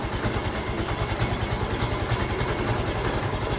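An old gasoline tractor engine idles steadily close by, with a low, even rumble and regular mechanical pulsing throughout and no voices.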